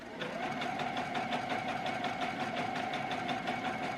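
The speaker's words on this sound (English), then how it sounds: "I will be doing it on my regular sewing machine right here" A domestic sewing machine runs steadily, stitching a long basting seam along a skirt hemline with an even, rapid needle clatter and motor whir, close and continuous without talk.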